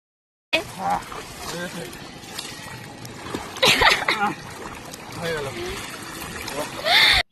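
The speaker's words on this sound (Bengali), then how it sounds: "তো দেখো কিভাবে স্নান করছে।" A person bathing in very shallow water splashes in a few short bursts, close by, while a voice talks over much of it.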